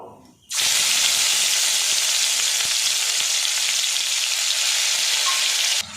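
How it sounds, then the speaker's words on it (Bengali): Onion paste sizzles hard after hitting hot mustard oil already tempered with cinnamon, a loud, steady frying hiss that starts abruptly and holds unbroken for several seconds before easing near the end. "এর মধ্যে আমি 2 চামচ পরিমাণে পেঁয়াজ বাটা দিয়ে দেব"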